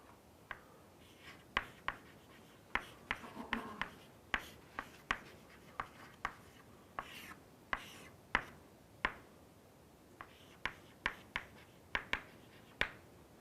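Chalk or marker strokes on a lecture-room board, heard as a run of sharp, separate taps and short scratches at an uneven pace, fairly close and clear, with no talking over them.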